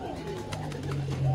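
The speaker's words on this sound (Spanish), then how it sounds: "una nueva especie de paloma, que son las palomas corbaticas" Corbatín pigeons coo in low, rolling repeated calls that swell toward the end, close and fairly steady over a soft background murmur.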